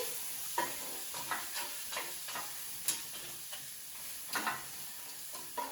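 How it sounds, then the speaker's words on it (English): Vegetables frying in bacon fat, stirred with a utensil, giving a steady close sizzle with periodic soft scrapes and taps roughly every half second, and nobody talking. "give these a little stir"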